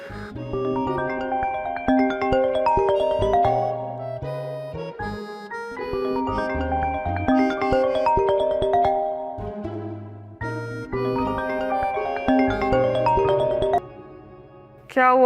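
A mobile phone ringtone plays a bright, repeating melodic phrase three times in a row, then breaks off.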